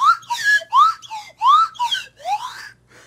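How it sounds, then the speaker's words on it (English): A whistle slides up and down in short gliding notes, playing a bouncy tune up close with brief gaps between phrases. "just doing your song on slide whistle"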